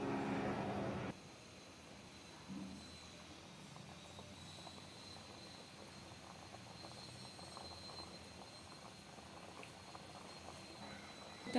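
Millets boil in a pot of water with a steady, soft bubbling hiss that carries on alone after a louder burst at the start.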